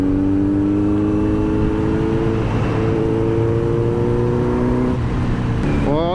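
A 2022 Kawasaki Z900 BS6 superbike ridden fast on an open road, its engine holding a steady, loud, harmonic drone that climbs gently in pitch and then rises more sharply near the end as it accelerates.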